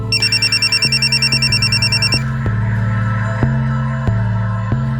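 Smita's mobile phone rings loudly, starting with a fast, high electronic warble and then settling into a repeating pulsing tone pattern, with no one speaking.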